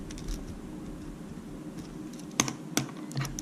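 A few clicky keystrokes on a computer keyboard, two sharp taps standing out near the end over a low steady background hum.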